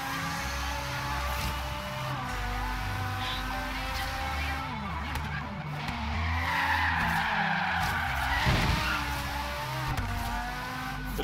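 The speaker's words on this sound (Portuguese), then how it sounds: "Aquele toquezinho de drift, né?" A car drifting through a circuit corner in Forza Horizon 3, with a sustained engine drone and a long tire skid that swells midway, under occasional talk.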